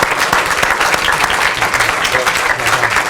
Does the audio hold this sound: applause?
yes